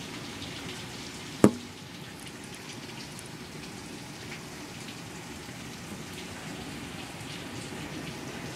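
Steady rain pours during a severe thunderstorm, a dense even hiss of drops on surfaces throughout, with one sharp click near the start.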